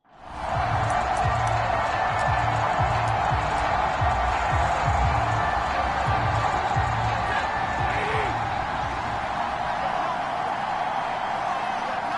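A sellout stadium crowd in the Madden 22 football video game roars steadily as the Ravens are introduced amid pyrotechnics, a loud, dense wall of cheering with a commentator talking over it.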